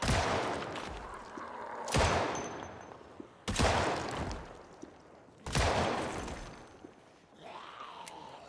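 Video game gun firing in three loud, sharp bursts spaced about two seconds apart, each blast trailing into a rumbling decay, followed by a quieter mechanical tail at the end, with no talk.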